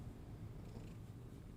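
A female cat purring, a low, steady, continuous rumble, close but quiet, with no other sounds.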